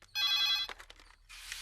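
An old-style telephone bell rings in a short burst indoors, a bright metallic trill lasting about half a second, followed by a brief pause and a softer second ring starting, close and clear with no talk over it.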